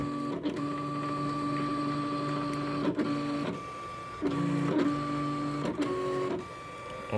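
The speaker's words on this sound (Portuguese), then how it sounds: "E eu tô com uma mão só, filmando e vendo a máquina cortando aqui" A Silhouette Cameo cutting machine cuts paper boxes with a steady mechanical whine and hum, its motor tone stopping and restarting in short passes as the blade carriage moves.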